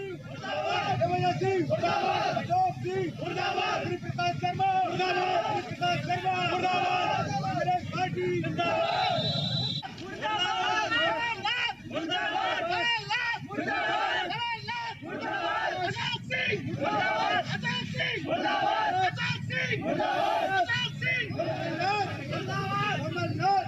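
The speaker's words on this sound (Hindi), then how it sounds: "हाथों में कांग्रेस का झंडा और कमलनाथ मुर्दाबाद के नारे" Congress workers in a crowd chant slogans against Kamal Nath, a loud rhythmic mass of shouting voices with repeated surges, continuing throughout over background hubbub.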